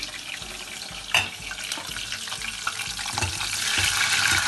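Steady sizzling of peppers frying in a pan with already-fried potatoes, a crackling hiss throughout and a brief sharp clatter early on, no voices.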